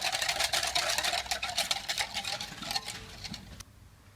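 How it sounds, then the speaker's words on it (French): A whisk or spoon stirs custard cream in a bowl (egg yolk and cooled boiled milk), giving a steady rapid scraping patter that continues for several seconds and then stops abruptly near the end. "Voilà, donc je mélange le tout."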